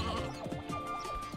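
Sheep bleating in the video game Sheep Raider, a short wavering bleat with a couple of quick vocal wobbles over a steady game background hum, close and clear.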